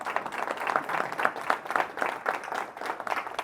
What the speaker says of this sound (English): Okay, you can applaud that.